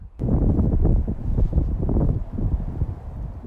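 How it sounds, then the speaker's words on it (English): Gale-force wind buffeting the microphone on the freezing Lake Erie shore, a loud continuous roaring rumble that surges and eases without pause. "For most of the day, the wind was gale force and well below freezing"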